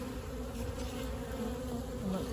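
Honey bees at an opened beehive during a UK spring hive check hum in a dense, continuous buzz, close and steady with slight swells as individual bees pass near.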